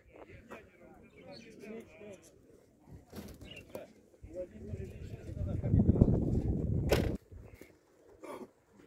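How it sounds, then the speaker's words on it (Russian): Uzbek pigeons at an outdoor bird market, with soft cooing and wing flutters heard among nearby people talking, a burst of louder clattering and shuffling rising in the middle before quieter sounds return. "Узбекские голуби."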